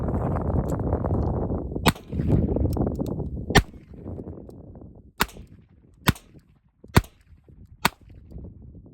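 Revolver gunshots ring out one after another, sharp and loud, about seven cracks at irregular intervals over a rumbling background that fades after the first few seconds.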